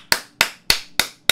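Five sharp, evenly spaced hand claps ring out close and loud, each decaying quickly, from a single person applauding alone with no talk over them.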